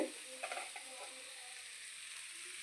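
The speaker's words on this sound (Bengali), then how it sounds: "পেঁয়াজটাকে ভাজতে আরম্ভ করে ফেলেছি।" Onions frying in a pan with a soft, steady sizzle that stays faint throughout, with a few light clinks near the start and no voices.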